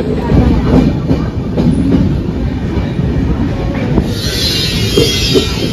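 Express train pulling into Dadar railway station in Mumbai, heard from on board: a loud, steady rumble of wheels and carriages with rhythmic clattering over the rails and a high squeal building near the end.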